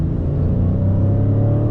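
A car accelerates hard on the road, a loud deep engine rumble with a rising tone, steady and close throughout the short stretch.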